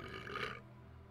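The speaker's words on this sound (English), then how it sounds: "Oh, I gotta burp again" A single short, low burp from a man playing The Forest, rumbling for about half a second against a quiet background.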